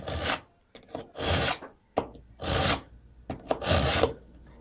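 A knife is drawn across a metal sharpener in four or five long rasping strokes separated by short gaps, close and fairly loud with no talk.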